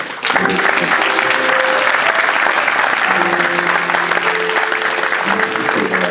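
A church congregation applauds loudly and continuously during a funeral service, the clapping sustained and close, with faint voices and tones mixed in beneath it.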